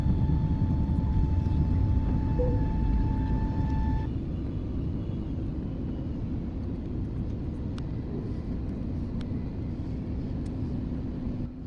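A passenger airliner on a short-haul flight spools up and takes off in sped-up footage, a steady low engine roar heard from inside, with a faint tone fading out early.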